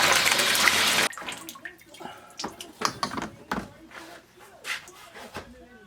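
Water gushes loudly into a 55 gallon drum for mixing 2:1 sugar syrup to feed bees, a dense hiss at first, then uneven sloshing splashes and gurgles, close up.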